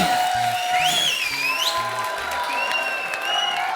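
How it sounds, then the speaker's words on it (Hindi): Steady applause from an audience fills the scene, dense and continuous, with a few higher tones and a musical sting layered on top. "जोरदार ताली"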